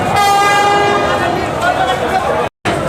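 A crowded passenger launch at Barishal ghat sounds its deep horn in one long, loud, sustained blast that breaks off near the end, with voices talking underneath.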